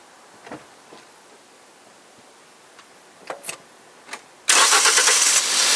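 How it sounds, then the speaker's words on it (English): A car engine cranks and catches during a compression test, then roars steadily at close range after a few faint clicks and rattles. "when I go to start engine again"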